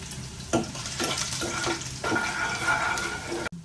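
Whole spices and a wet masala paste fry in a hot pan with a dense, continuous sizzle and crackle, and stirring scrapes surge through it before a sudden stop.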